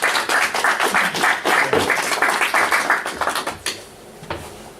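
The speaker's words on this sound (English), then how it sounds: "Round of applause, please, everyone." Small audience at a Bristol DevOps evening talk clapping for the presenter, a brisk burst of close hand claps with distinct individual slaps that thins out and fades within a few seconds.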